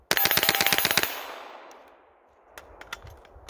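A rifle fitted with a Hammerhead drop-in trigger fires a rapid string of about a dozen loud close shots in about one second, then a ringing fade, followed by a few faint clicks and clanks of handling.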